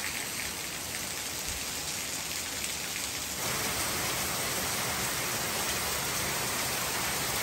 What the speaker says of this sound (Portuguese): E a chuva apertou de verdade agora sim, hein?